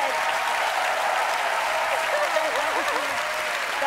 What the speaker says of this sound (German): Also wirklich noch ein ganz, ganz großer Applaus